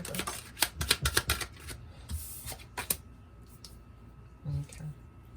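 Tarot cards are shuffled and drawn in quick bursts of crisp riffling clicks, followed by quieter pauses and a soft shuffle near the end, with a voice speaking at moments.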